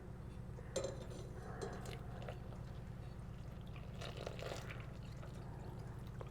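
Water being poured into a container for homemade yogurt, a soft, quiet trickle and splash close by, with a few small clinks, under a steady low hum.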